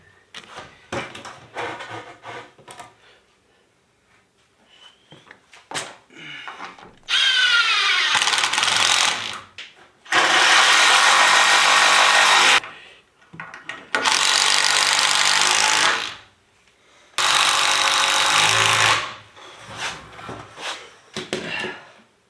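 A power drill bores a hole through wood for basement wall framing, running in four long loud bursts of several seconds each, separated by pauses with clattering handling noises.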